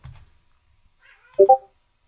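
A cat gives a short two-part meow, clear and close, after a brief soft thump and near silence.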